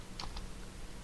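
A couple of quick keystrokes tapped on a computer keyboard while entering a command in 3D modelling software, faint and close, with no talk.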